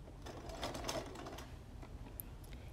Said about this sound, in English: you're ready to take it to the sewing machine and start